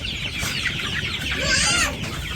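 Chickens clucking in a village flock of growing birds, a dense close chorus of overlapping clucks and squawks throughout.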